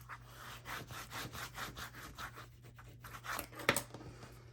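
Paper is burnished inside a fabric-covered mini album with close, rhythmic rubbing strokes, roughly eight scrapes in a row. A sharper scratch follows near the end.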